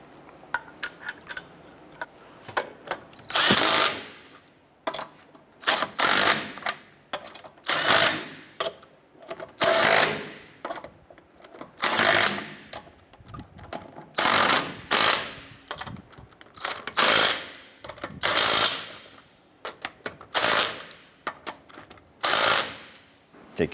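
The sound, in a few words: power tool tightening wheel lug nuts on Honda Accord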